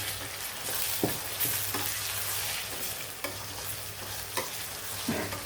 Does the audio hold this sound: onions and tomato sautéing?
yes